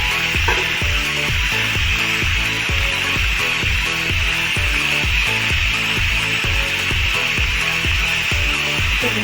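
Jackfruit and spices fry in a pan for an Assamese-style jackfruit fry, with a steady sizzle under repeated rhythmic scraping strokes of stirring, close and fairly loud, with no talking.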